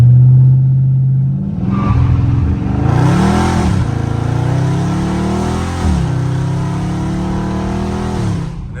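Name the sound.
manual car launching from a stop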